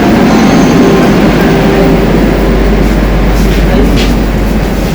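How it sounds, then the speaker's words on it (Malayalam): A Kochi metro train at the station, a steady loud low rumble and hum that holds evenly throughout with station noise on top. "കറക്റ്റ് സമയത്ത് തന്നെ നമുക്ക് വന്നു ട്രെയിൻ. ഇതാണ് മെട്രോ."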